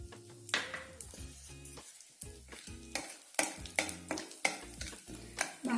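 Almonds roasting in ghee in a pan, stirred with repeated short scraping strokes in a steady rhythm over a tuneful background with low sustained notes.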